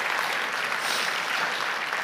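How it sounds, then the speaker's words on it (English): A church congregation at a Sunday morning service claps to welcome the junior youth, a dense, steady wash of applause filling the room without a break and with no one speaking over it. "Come on, let's give them a clap, make them feel welcome."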